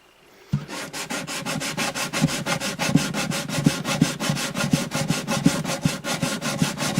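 Light sanding on a rosewood guitar bridge from an Alvarez Artist AD65 acoustic, a close, steady rhythmic scratching of quick back-and-forth strokes, alone with no voices.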